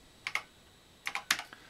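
Keys clatter on an Acorn BBC Master computer keyboard, three short letters typed in quick clicky bursts, close and crisp in a quiet room.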